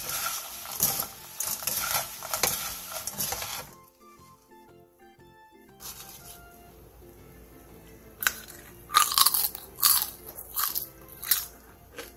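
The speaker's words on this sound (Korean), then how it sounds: "바삭하면서 씹을 때마다 고추의 향이 은은하게 퍼지고" Crunchy bites and chewing of sugared fried chili pepper chips (gochu bugak), close crisp crackles in two bursts separated by a quiet gap with faint soft music.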